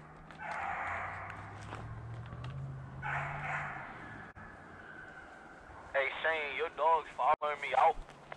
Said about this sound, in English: somebody tell Rail his dog barking now.